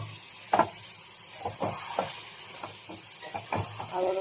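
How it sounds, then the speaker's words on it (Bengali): Bottle gourd stems are stirred in a hot pan as they fry, with a soft, steady sizzle and scattered scraping knocks of a spoon, close and fairly quiet. "আবারও ভালো করে নাড়বো।"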